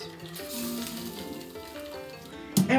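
Boiling water poured into a hot pan to make a water bath for baking a soufflé, a gentle trickling splash with light sizzling that ends in a short, sharper clatter.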